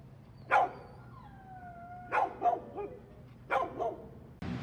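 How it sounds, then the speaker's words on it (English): Dogs in a rescue shelter's kennel room bark in three separate bursts, some single and some doubled barks, echoing in the room with quiet pauses between them. "We are now in the east dog kennel room, very similar to the other room."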